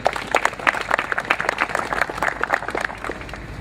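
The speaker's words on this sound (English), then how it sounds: "give a big round of applause" An audience at a city event marking Hammond's 400th property demolition claps in a brief, moderate round of applause, with individual hand claps distinct against light background murmur.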